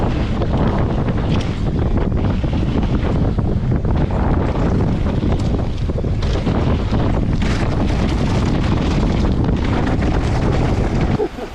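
Steady, heavy wind buffeting a microphone at an outdoor downhill freeride bike park, a loud continuous roar for the whole stretch with no voices.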